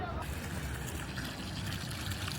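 Steady, soft splashing and trickling of water from a fountain at an eighteenth-century palace garden in Germany, continuous and unbroken, fairly close with a diffuse wash of noise.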